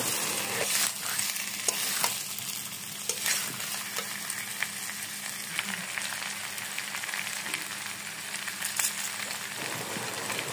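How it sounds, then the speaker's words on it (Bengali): Egg sizzles in a pan with mixed spices while being stirred, giving a continuous frying hiss broken by repeated scraping stirs, close and even throughout. "মেশানো মশলাটা দিয়ে এবার সব ভালো মতো একসাথে নাড়িয়ে নেব।"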